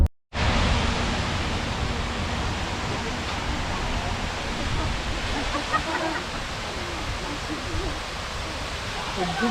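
Water pours down a waterfall at Srisailam as a broad, continuous roar that starts abruptly after a brief silence and stays loud and steady throughout.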